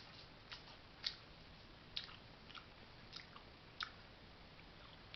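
Peppermint-flavored chiclet-style chewing gum tablets are chewed close up, with soft, irregular crunching and wet mastication clicks over a faint steady hiss; no voices.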